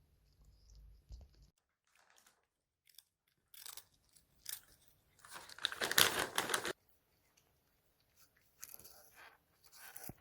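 A cat named Tori chews and crunches a snack treat up close, with bursts of crisp biting and crunching separated by quiet pauses and a loud cluster in the middle.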